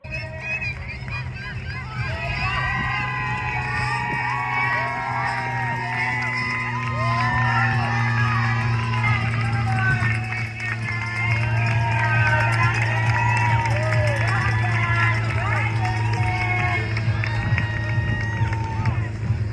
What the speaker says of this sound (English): all of these people cheering in this clip are the people that had finished